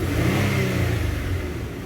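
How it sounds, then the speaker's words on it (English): A Ford Explorer engine revs up close, a steady loud mid-range roar that holds throughout with slight fluctuations, with no voices over it. "Just going to give it a quick rev."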